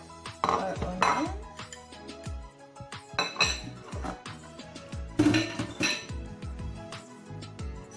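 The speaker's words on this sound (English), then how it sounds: "They are all in the bowl, so we just mix it." Carrots and onion for a low-carb kimchi being mixed in a bowl, with clinks and clatters of utensil against the bowl coming in bursts, close and moderately loud.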